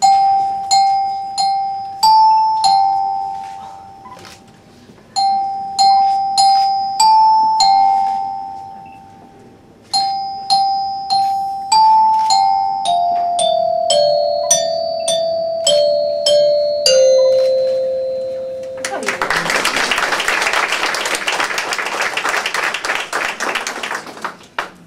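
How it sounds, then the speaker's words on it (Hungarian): A child plays the Hungarian tune 'Ég a gyertya' on small colored handbells at a hospital Christmas event, bright clear ringing notes in short phrases with pauses, followed near the end by a burst of applause. "szeretik használni a gyerekek ezeket a színes kis csengetjüket"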